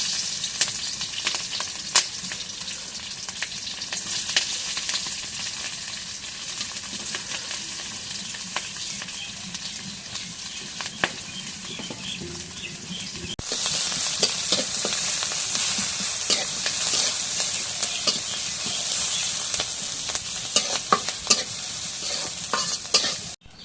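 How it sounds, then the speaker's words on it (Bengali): Green chili paste fries in hot oil with a constant loud sizzle, while a spoon stirs and scrapes the pan in scattered clicks. The sizzling grows louder partway through. "এখন করে আমি তেল দিই এখন কাঁচা মরিচটা পেস্ট করে দিয়ে দিই"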